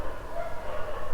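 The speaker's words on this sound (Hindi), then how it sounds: "कुत्तों की लड़ाई हो रही है गाइस" Dogs fight and bark in short yapping bursts, fairly faint and in the background for about a second, with no talking over them.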